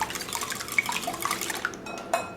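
Eggs go into a large mixing bowl, with close clinks and taps against the bowl, light wet sloshes and a few sharp knocks scattered through a short stretch.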